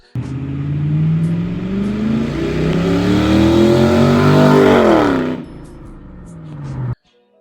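A Toyota Celsior's V8 engine with open headers revs up with a rising, throaty roar, holds loud for a few seconds, then drops back to a rough idle before cutting off.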